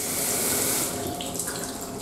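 Water runs steadily from a tap in a ferry's suite cabin, a bright hissing gush that is loudest at first and then eases a little, with no talking over it.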